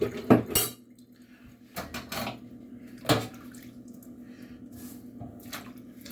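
Dishes and cutlery clatter while being rinsed under running water in a kitchen sink after scrubbing, with sharp metallic clinks and knocks in bursts over a steady, close wash of flowing water.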